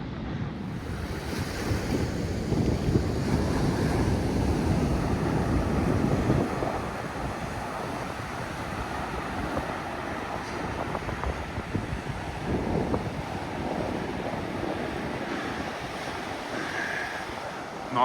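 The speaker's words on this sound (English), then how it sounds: "So this is Yallingup Beach. I'm about to jump in." Surf rolls and breaks at Yallingup Beach, a steady wash of waves with wind buffeting the microphone, moderately loud and continuous, softening slightly toward the end.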